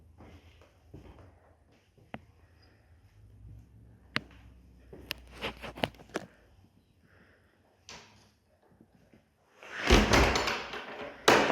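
A house door is handled on entering, with sharp knocks and latch clicks scattered through the middle, then a louder rush of opening and closing near the end, all without talk.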